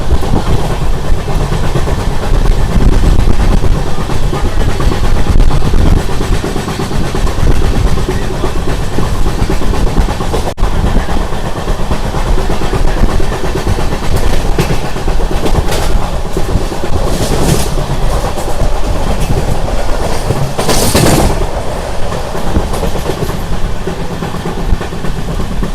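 A Tirupati to Varanasi Maha Kumbh special express train runs at speed, heard from inside a general coach as a loud, steady rumble with rhythmic wheel clatter and occasional rattles throughout.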